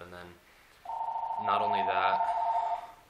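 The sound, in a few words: telephone ringing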